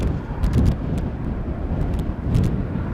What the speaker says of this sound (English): The wind is also blowing violently